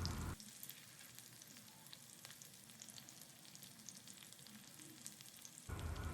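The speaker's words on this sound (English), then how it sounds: "we will flip them one by one so that they are fried, crisp and golden brown from all the sides" Paneer cubes fry in hot oil in a pan, giving a soft, continuous sizzle with fine crackles that stays steady and close throughout.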